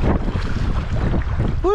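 Steady wind buffets the microphone while sea kayaking, a rough continuous rush of low noise throughout, with a brief tonal whoop at the very end.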